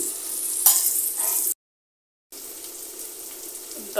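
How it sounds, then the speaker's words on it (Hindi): Spices such as turmeric, red chili powder and cumin-coriander powder fry and get stirred in a pan, giving a broad sizzling hiss broken by a short silent gap, with no talk. "तो इसको अच्छे से फ्राई कर लेंगे, मसाले को अच्छे से भून जाए।"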